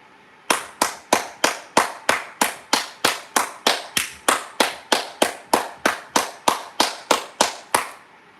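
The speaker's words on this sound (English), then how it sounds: "Matter of fact, clap it up." Single pairs of hands clap in a slow, even rhythm, about twenty-four crisp, close claps spaced roughly a third of a second apart, alone with no talking.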